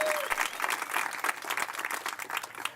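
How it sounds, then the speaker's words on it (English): Audience applause for a community music ensemble at a centennial celebration event, dense and steady clapping filling the hall at moderate loudness throughout, with no speech over it. "One more round of applause for the ComCamp Ensemble, Erica, Chris, and our two sign holders"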